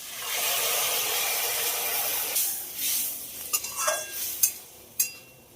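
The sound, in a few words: hot water added to frying okra and potatoes, stirring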